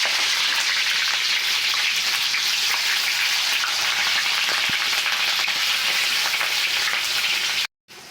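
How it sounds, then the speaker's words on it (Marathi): Green chillies fry in hot oil for a crisp puffed-rice chivda, giving a dense, steady crackling sizzle close up with an occasional stir, cutting out abruptly near the end. "आपण मिरची तळून घेऊयात"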